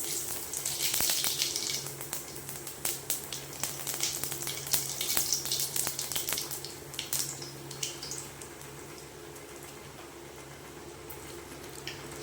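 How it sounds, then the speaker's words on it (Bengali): Whole cumin seeds sizzle in hot oil in a kadai, a steady close hiss and crackle that is busier at first with sharp spits, then settles into a softer even sizzle. "গোটা জিরে ফোড়ন"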